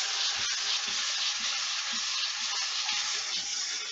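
A Trend Air Shield Pro powered respirator fan runs as a steady, broadband whoosh, constant and fairly quiet throughout, in a woodworking shop setting.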